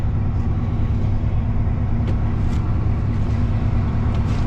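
A Chevrolet 1500 pickup with a 350 V8 idles close by, a steady deep rumble that holds evenly throughout with no talk over it.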